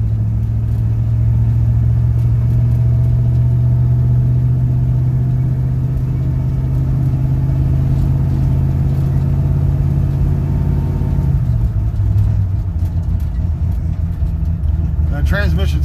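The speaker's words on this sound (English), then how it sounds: "The transmission's cold right now, so it's not shifting as smooth as it was yesterday." A 1967 Chevy C10 pickup drives with its cold transmission shifting from first to second: a loud, steady engine drone holds its pitch, then drops noticeably as the gear changes near the end, with interior road rumble.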